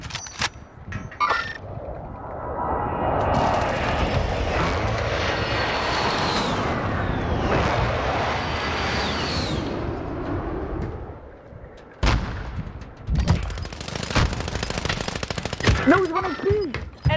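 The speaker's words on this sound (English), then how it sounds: "Friendly precision Mark to airstrike target." Airstrike in a video game: a loud aircraft engine roars in and sweeps past for several seconds, followed by sharp explosive blasts and bursts of gunfire, with occasional talk.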